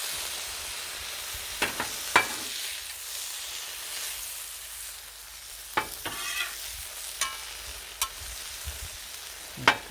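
Cheese steak meat frying on a flat griddle, a steady close sizzle and hiss with a few sharp metallic spatula taps and scrapes scattered over it.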